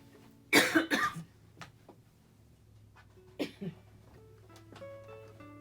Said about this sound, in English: I've been coughing a lot today.